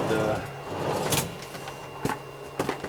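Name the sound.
mechanic's diagnostic tool cart drawer being opened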